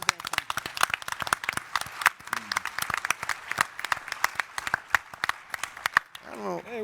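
Lively audience applause at a conference skit, dense claps packed closely together and fairly loud for several seconds, with a voice rising briefly as the clapping ends.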